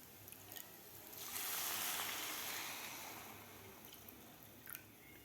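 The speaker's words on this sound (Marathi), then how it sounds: "इथं मी या वाटीनं दीड वाटी पाणी घालणार आहे" One and a half cups of water poured into a pan holding a dry pea mixture, rising to a steady splashing rush for a couple of seconds, then tapering off, with faint drips afterward.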